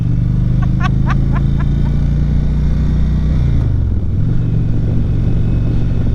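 A 2019 Indian Chieftain motorcycle's engine rumbles loud and steady under wind noise while riding, then the pitch drops and rises again through a smooth gear shift, with a few faint chirps early on.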